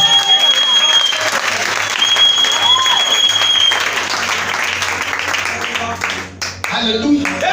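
A church congregation claps and cheers in sustained, loud applause that fills the room, fading somewhat near the end, with a voice rising briefly over it.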